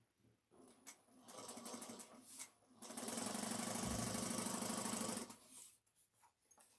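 A sewing machine bastes bag pieces together in short stitching bursts followed by one longer steady run of about two seconds, close and moderately quiet, with soft handling sounds in between.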